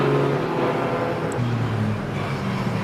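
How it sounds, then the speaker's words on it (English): BMW race car from the Interceptor team pulling out onto the Silverstone GP circuit during a 750 Motor Club Birkett Relay, engine a steady droning hum with a slight rise in pitch, heard at a distance amid circuit noise. "Now there's the Interceptor BMW back out."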